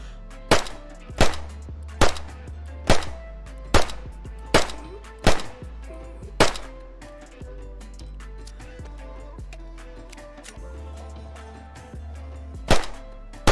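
P1 pistol shots in DayZ ring out as about a dozen sharp, loud cracks, fired at a steady rhythm roughly every second, then a pause and one last shot.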